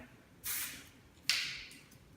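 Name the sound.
hairspray being sprayed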